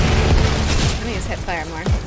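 Hip-fired gunshots in the video game Outriders, a few quick booming bursts amid game effects, with a player talking over them.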